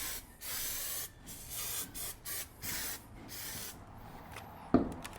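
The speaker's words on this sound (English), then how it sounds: "Now I'm going to spray glue a little bit on the sides too" Repeated short bursts of spray adhesive hiss in quick succession onto HVAC supply duct, close and fairly quiet, ending with a sharp knock.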